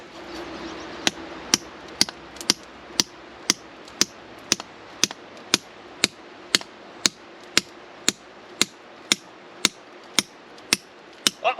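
A hammer strikes a steel feather and wedge set into rock at a sapphire digging site, a loud, sharp metallic clank repeated about twenty times at a steady, even pace, with no talking.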